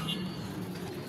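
Pigeons give a brief, low cooing during a racing pigeon arrival in Laguna, faint under steady background noise.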